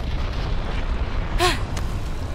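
Device explosion in the video game Mass Effect Andromeda: a brief burst with a falling whistle-like tone about midway, over a steady low rumble of game ambience, with no voices.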